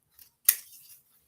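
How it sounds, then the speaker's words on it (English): A single quick snip of scissors, sharp and close, followed by a brief soft rustle, otherwise quiet. "Sorry if you can hear my scissors"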